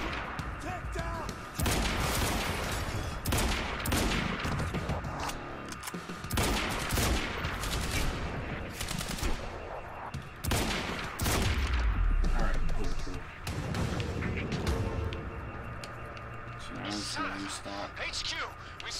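Rapid bursts of gunfire and impacts in the action game Quantum Break, with loud, dense volleys and crashes filling most of the stretch, mixed with game music and effects.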